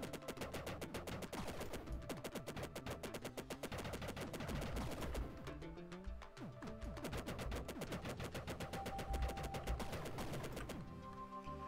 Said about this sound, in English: See if there's another fleshy wall that I can use the machine gun to get through.